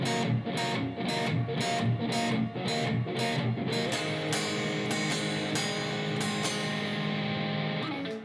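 Electric guitar playing the second part of a song verse slowly, evenly spaced chord stabs giving way to ringing strummed chords and single-note fills, close and clear with no voices.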